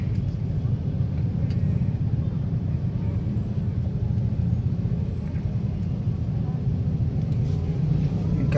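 Dense, steady traffic rumble from a jammed market street on the Darussalam campus, with cars, motorbikes and stopped minibuses idling and creeping along; a continuous low drone with no breaks, voices faintly mixed in.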